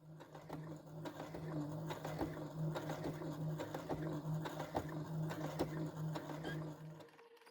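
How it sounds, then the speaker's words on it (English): A sewing machine slowly stitching through several fabric layers holding plastic boning, a steady mechanical hum with rapid needle clicks running continuously for about seven seconds, close and moderately loud, then stopping. "you're going to sew through all of the layers"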